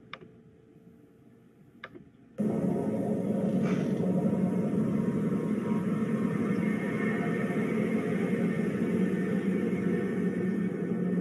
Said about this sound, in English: Sound of Jupiter.